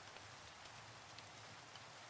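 Steady rain in the video game Minecraft, a dense, even hiss of falling drops that stays constant and fairly quiet throughout with no other sounds.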